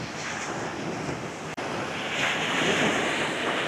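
Ocean surf on Clearwater Beach rolls in as a steady, broad wash of breaking waves, with wind buffeting the microphone and the roar swelling slightly louder toward the end; no one speaks.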